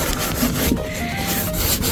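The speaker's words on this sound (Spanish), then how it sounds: "Ahora Leo está limpiando ahí con una lija" Steady scratchy rubbing of sandpaper on a hard surface inside a caravan, continuous and fairly close, with a slight back-and-forth texture throughout.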